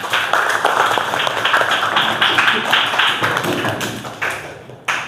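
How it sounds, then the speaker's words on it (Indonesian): Applause rises from an audience at a teacher performance exam presentation, many hands clapping loudly in a dense, continuous patter that holds for several seconds and then tapers off near the end. "Tepuk tangan."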